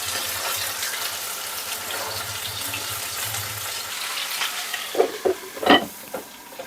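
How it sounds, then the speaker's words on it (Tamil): Chicken frying in a pan for a fried chicken gravy, giving a steady broad sizzle with a low hum underneath, then a few louder bursts of crackling and stirring near the end. "நான் இதை முதல்ல ஃப்ரை பண்ணிக்கிறேன்."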